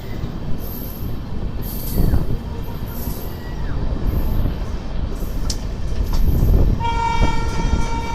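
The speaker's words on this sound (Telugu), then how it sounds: "ట్రైన్ వచ్చేసి సింగరాయకొండ నుంచి అయితే బయలుదేరిపోయింది" A Pinakini SF Express train with LHB coaches pulls away from Singarayakonda station in a steady rumble of wheels and rail noise, with brief squeals and a horn-like tone near the end, close and fairly loud.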